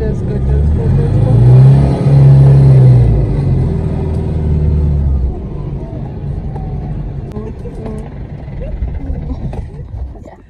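Car engine rumbling loudly as a vehicle is driven through a village, with a strong revving surge early on, then a steadier lower drone; voices talk over the drive.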